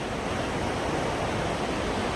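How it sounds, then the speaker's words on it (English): A waterfall shooting out from a cliff, heard from a viewpoint on a Washington trail, gives a dense, steady rushing roar with no breaks and no voices. "There we can see the waterfall shooting out."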